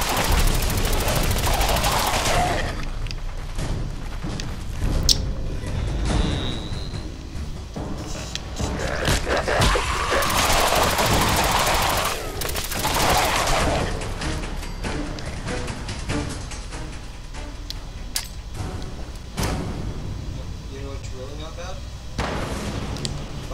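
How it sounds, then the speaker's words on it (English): Heavy gunshots from a legendary two-shot Gauss rifle in Fallout 4, sharp loud blasts and booming impacts scattered through a busy, noisy scene, with people talking over the gunfire. "legendary two-shot Gauss rifle"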